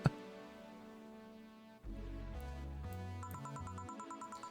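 A Windows phone ringing in a video game, a bright electronic melodic ringtone with layered tones and chime-like notes, following a brief click and quiet tone, playing steadily with no talk.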